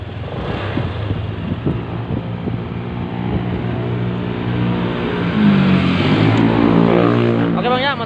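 Honda Vario 150 scooter engine, under repair for stuttering and weak power, revved with the throttle in a steady, close drone that rises slightly partway through, with a voice talking over it.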